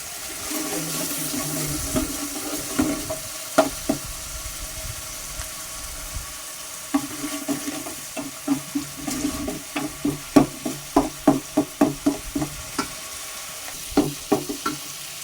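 Curry leaves and turmeric frying in oil for a Telangana-style fish curry: a soft, constant sizzle with a series of sharp clicks and scrapes from stirring that grow more frequent toward the end.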